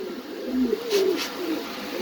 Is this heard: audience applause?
no